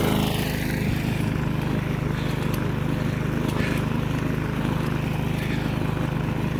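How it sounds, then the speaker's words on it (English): A lawn mower runs close by, its loud engine droning without a break for the whole stretch. "Take too much time to turn the lawnmower around."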